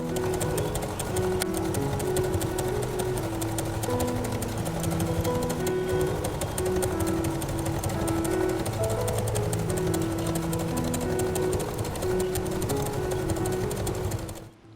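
A sewing machine top-stitches around a denim hobo bag, its needle running in a rapid, unbroken mechanical chatter at close range, loud and steady for about fourteen seconds before stopping abruptly, with no talking.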